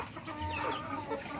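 Chickens cluck steadily in a busy, overlapping flock, a moderate continuous chatter with no pauses.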